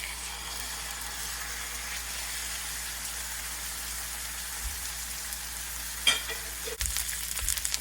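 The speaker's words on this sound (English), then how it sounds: "I'm just going to take our amazing roast and set it in, and I'm going to brown it a few minutes per each side" A beef roast browns in a hot pan on a wood stove, sizzling loudly and steadily throughout, with a few knocks and scrapes near the end.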